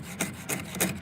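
A file sharpening a chainsaw chain, three steady, close rasping strokes in an even back-and-forth rhythm.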